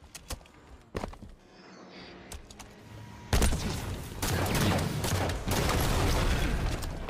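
Explosions and sniper gunfire from a Halo 5: Guardians custom multiplayer match: scattered sharp shots early on, then a dense, loud barrage of blasts and rapid fire.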